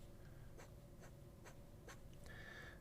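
A vacuum-filling fountain pen with a wet nib writes on paper, producing faint close-up scratches and short strokes in a quiet room, ending with a brief squeak.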